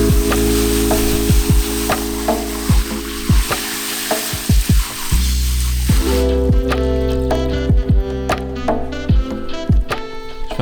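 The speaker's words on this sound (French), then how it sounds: "je mets l'arbre dans le pot et je l'agite pour nettoyer au mieux" An azalea bonsai's roots are swished and shaken in a basin of water, giving sloshing, splashing and dripping with repeated sharp clicks, close and continuous without talk.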